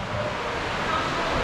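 Water rushes down the stairs of a water slide in a loud, continuous roar, with wind-like hiss and no voices.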